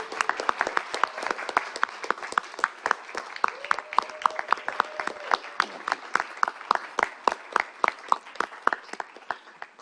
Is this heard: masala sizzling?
no